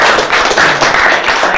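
An audience at an Indonesian literacy talk event claps together in a loud, continuous wash of applause.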